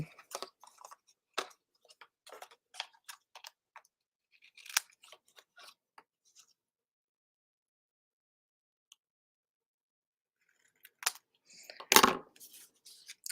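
Scissors trim paper for a card front: scattered crisp snips and clicks, sparse and close, with long quiet gaps between cuts and a denser flurry of cutting near the end.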